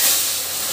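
Masoor dal hits hot oil tempered with panch phoron, a loud close hiss that surges at the start and then settles into a steady sizzle, with no talking.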